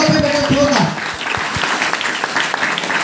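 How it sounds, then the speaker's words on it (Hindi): Audience at a motivational seminar bursts into loud, hearty applause, dense clapping that swells briefly after a voice and then continues steadily. "सब लोग खुद के लिए जोरदार ताली"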